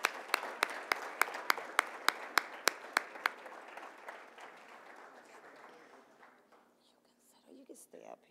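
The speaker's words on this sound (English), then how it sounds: "let's give them a nice round of applause" Audience applause at a Hispanic Heritage Month school celebration for students from East High, with several sharp early claps over a dense crowd clatter that fades out over several seconds.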